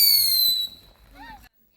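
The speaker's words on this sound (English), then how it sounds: "it is one of these other fireworks that scream before they sparkle again" A consumer firework shell at a July 4th backyard show gives a loud crackling burst with a high descending screech, then fades into a brief rising whistle-like squeal before cutting to silence.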